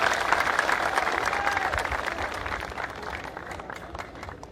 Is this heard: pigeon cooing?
no